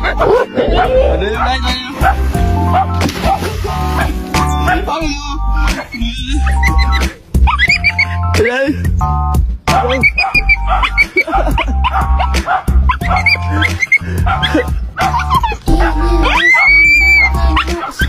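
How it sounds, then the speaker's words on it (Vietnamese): Dogs bark, yip and whimper repeatedly near a riverside fishing spot, reacting to a strange dog barking across the water, with someone talking over much of the commotion. "Tụi nó nghe bên kia có tiếng chó lạ sủa mà tụi nó làm vậy đó."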